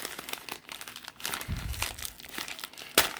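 Fancy wrapping paper inside a package crinkles and rustles continuously up close, with a sharper crackle near the end.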